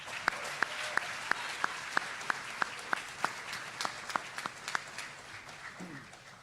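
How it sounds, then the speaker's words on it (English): Audience applause for the Averett University singers at a Founders' Day gathering, moderately distant and fairly soft, with distinct sharp claps standing out over a thinner crowd patter that fades toward the end. "Let's give our Averett singers another round of applause"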